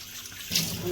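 Water runs from a kitchen tap, starting abruptly partway through as a steady close hiss of pouring water after a quiet moment.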